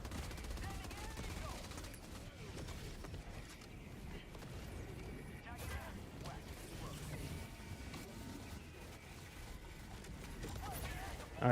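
Heavy machine gun fire from a Helldivers 2 game battle against the Illuminate, a dense, continuous roar of rapid shots and mechanical clatter that stays loud throughout, with a voice talking over it.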